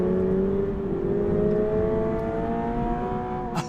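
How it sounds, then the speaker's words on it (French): A Toyota flat-four car engine revs hard toward a 7500 rpm redline, climbing steadily in pitch, a loud, sustained growl that eases off right at the end. "Écoutez-moi, c'est monté en régime."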